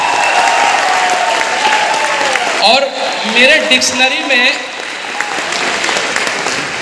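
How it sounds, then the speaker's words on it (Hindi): An audience at a Smart Value India event in Kolkata bursts into loud, sustained applause, a steady wash of clapping with someone briefly speaking over it partway through. "जोरदार ताली होना चाहिए सुजय राय के लिए"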